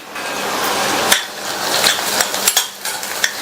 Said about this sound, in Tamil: லைட்டா ஒரு வதக்கி விட்டுட்டு